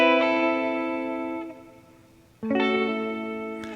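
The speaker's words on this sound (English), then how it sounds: "Now, no reverb, just delay." Two sustained electric guitar chords ring out with clean tone, each tail repeating and smearing into echoes; the second chord strikes sharply after a brief dip.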